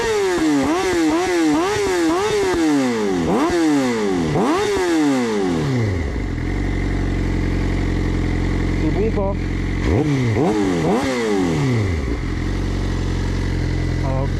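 A new motorcycle with a hot exhaust line revs loudly and close several times in quick bursts, settles to a rumbling idle, then revs twice more, with a brief spoken remark in between.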